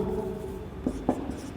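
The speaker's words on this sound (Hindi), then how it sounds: "यहाँ लिखेंगे" Chalk or marker strokes on a board during a mathematics lecture on conic sections, two or three short scratchy strokes against a steady room hum, with no talk over them.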